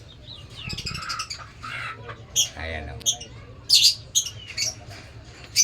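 Pet birds kept in numbers give a run of sharp squawks and chirps, several bursts close by, while someone speaks briefly.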